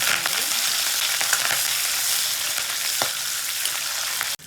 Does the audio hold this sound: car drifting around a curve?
no